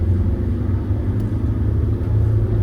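Car climbing a hill road in second gear at high revs, a steady loud low engine drone heard from inside the cabin.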